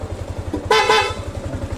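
Horn of a Sniper 155 motorcycle honks in two quick close, loud toots over the steady low pulsing of its idling engine, with no talking.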